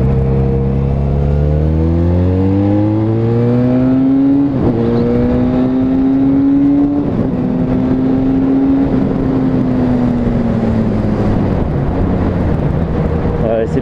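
A car engine revs and climbs through the gears during rolling shifts, pitch rising steadily then dropping at each change, loud and close with steady drive noise throughout.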